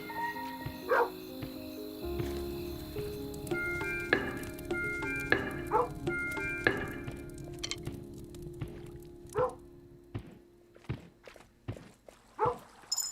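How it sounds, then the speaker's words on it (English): Small dog barking in short yips amid footsteps and busy game sound effects in Kingdom Two Crowns, a tower-defense style game; repeated sharp barks recur through the latter half over steady background music and clatter. "Save the dog. The dog's alive."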